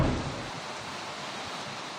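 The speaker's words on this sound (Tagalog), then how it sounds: "Kasabay naman ng malakas na ulan ang sunod-sunod na kulog at kidlat sa Samal, Bataan." Heavy rain pours down during a thunderstorm in Samal, Bataan, a steady broadband hiss of downpour that stays even throughout, with a brief low rumble at the very start.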